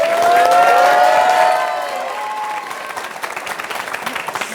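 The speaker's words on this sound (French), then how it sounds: "On peut applaudir" An audience at a high school media broadcast event applauds, loud clapping with cheering at first, then thinning out and tapering into scattered claps.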